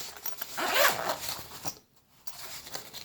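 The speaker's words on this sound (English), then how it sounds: "It does come in a zippered pouch." A zipper runs once on a knife's zippered pouch, a quick close rasp, followed by silence and then faint handling.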